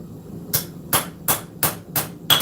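A forging hammer strikes an anvil in a shop, six sharp ringing blows in a steady, slightly uneven rhythm, close and clear with no talk.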